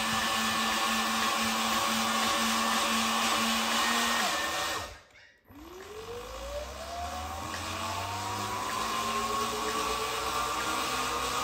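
A 72v Sur Ron electric motorbike with its wheel spinning free and no throttle applied gives a steady high motor whine, which cuts out briefly and then comes back with a rising tone as the wheel spins up again.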